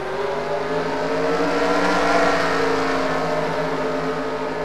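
Race car engines fire up at the start of a 200-lap event, a loud, sustained droning roar with steady engine tones that swells slightly in the middle, heard close and alone.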